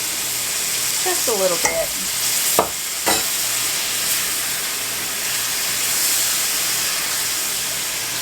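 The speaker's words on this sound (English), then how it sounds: "I'm going to take some of this pasta water and add it into my pan here" Pasta water poured into a hot pan with tomatoes, giving a loud steady hiss of steam and sizzle, a few utensil knocks early, and a short spoken remark.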